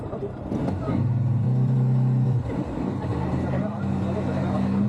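A gifted ATV's engine idles and then rises in a steady droning hum as the throttle is pressed, close by, with people talking over it.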